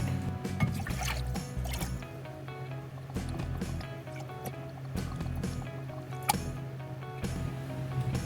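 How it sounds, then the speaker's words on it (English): Liquid ingredients including wine being poured and combined, with soft trickling, light splashes and small knocks of containers at close range, and no talk. "let's combine all the liquid ingredients and then we can start cooking."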